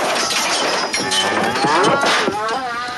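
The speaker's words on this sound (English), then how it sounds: "More cattle." A herd of cattle mooing in a Western film scene, several long lowing calls overlapping at close range above a dense, noisy background with clinking sounds.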